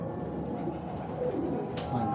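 Pigeons coo softly on a rooftop loft, a low steady murmur of several birds throughout, with faint background noise and no clear talk.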